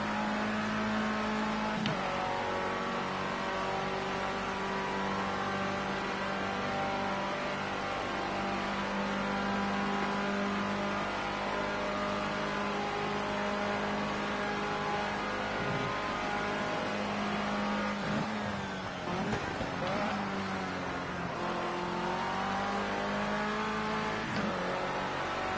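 Formula C race car in the Project Cars 2 video game drones on at steady high revs, a loud continuous engine whine with brief dips and pitch sweeps as gears shift.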